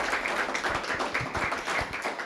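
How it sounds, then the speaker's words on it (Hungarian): An audience at a conference in Eger, Hungary claps for the speakers, producing a dense, sustained round of applause with many overlapping hand claps throughout. "Hatalmas tapsot szeretnék még egyszer kérni előadóinknak."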